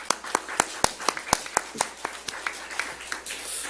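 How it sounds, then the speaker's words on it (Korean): A church congregation claps in slow, distinct, fairly even beats, roughly fifteen sharp claps spaced across a few seconds at moderate volume. "영광의 박수 올려드리도록 하겠습니다"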